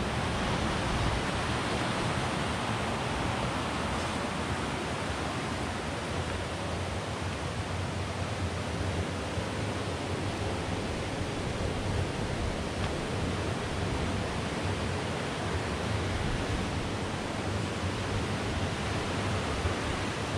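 Roaring river rapids beside an abandoned water mill fill the interior with a dense, unbroken hiss and rumble that holds steady and loud for the whole stretch, with no talking.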